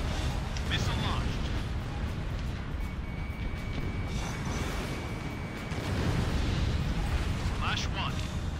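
Missile launches and explosions in the jet combat game Ace Combat Infinity, a dense continuous roar of rumbling bursts and engine noise, loud and unbroken, with a voice talking over it.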